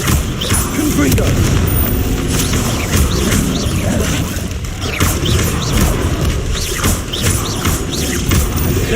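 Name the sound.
Confringo fire spell explosion, from video game Hogwarts Legacy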